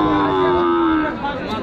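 Cattle at the Panchbibi livestock market in Joypurhat, Bangladesh, give a long, loud, close moo that holds steady for about a second and then fades into the low murmur of the crowded market.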